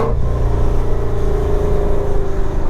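A Shelby GT350 drives along, its engine giving a loud, close, steady low growl with a slight rise in pitch, heard on its own with no talk.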